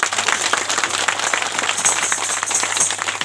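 A crowd at a Sarna religious gathering claps loudly and steadily, dense overlapping hand claps sustained throughout without speech.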